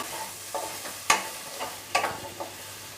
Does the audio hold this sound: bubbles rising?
no